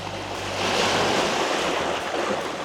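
Ocean surf rolls onto a white-sand beach on Miyako Island, a steady broadband wash with wind noise on the microphone and no talking.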